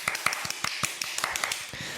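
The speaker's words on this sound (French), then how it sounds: "On peut l'applaudir. On l'applaudit." A small audience applauding with sparse, uneven claps, fairly close and moderately loud, for a short burst with no voices.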